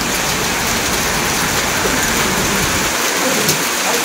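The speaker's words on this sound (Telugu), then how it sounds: "ఈ లోపే పెద్ద వర్షం వచ్చేసింది." Heavy rain pours down in a dense, even wash of hiss and patter that holds steady throughout, with no voices over it.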